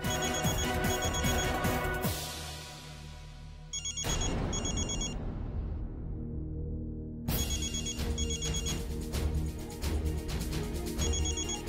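A telephone rings loudly at home, an electronic ringtone repeating in regular pulses that drop out briefly and resume, playing alone without speech.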